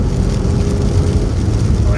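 Škoda Kodiaq with a 2-litre 140 kW engine revving hard while driving, a steady loud drone with low rumble and wind roar throughout, no talk heard.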